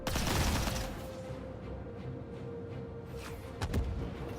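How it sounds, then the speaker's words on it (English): A space combat video game explosion bursts loudly at the start and tails off into a low rumble, followed by a fainter second blast and a steady hum. "Oh, that was an explosion. Confirmed explosion."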